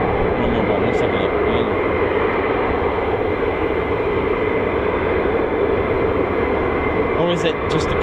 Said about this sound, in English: Looks like is that an F-35 behind it? In front is an F-15.